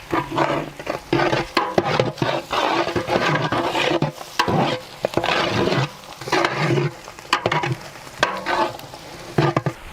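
Cinnamon, cloves, cardamom and bay leaves stirred into hot oil in a pan for chicken kabsa in an outdoor village kitchen, with a loud continuous sizzle and scraping stirs in uneven bursts, up close.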